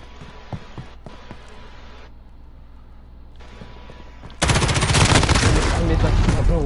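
Video game gunfire in Modern Warfare, with scattered shots and muffled game sounds at first, then a loud, sustained burst of rapid automatic fire at close range.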